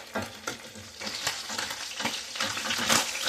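Fish fries in a single pot for fish choka, a loud close sizzle that swells and crackles over about three seconds, with repeated scraping stir strokes and no voices.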